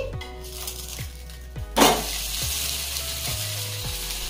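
Steady, close sizzling of semolina uttapam batter frying in a hot pan, with a brief louder flare of crackle partway through and faint metallic clinks.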